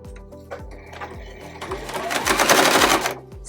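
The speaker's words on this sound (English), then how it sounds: "So I'm going to add a row of stitching here and here and here and here." Sewing machine stitching rows on a patchwork zipper pouch, a rhythmic mechanical whirr with regular repeating thumps that speeds up and grows louder toward the end, heard alone and close.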